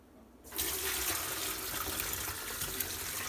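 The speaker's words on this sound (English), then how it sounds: "So let's start pouring it in and straining this." Homemade chicken bone broth pours through a strainer into a pitcher, a steady, close splashing stream that starts abruptly and runs on without talk.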